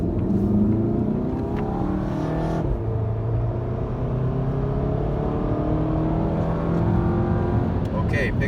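A VW GTI MK7 with a Cobb Stage 1 tune accelerates hard, its engine note droning and climbing steadily from inside the cabin, loud and continuous, with a voice speaking briefly over it.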